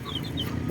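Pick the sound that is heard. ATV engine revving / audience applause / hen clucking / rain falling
hen clucking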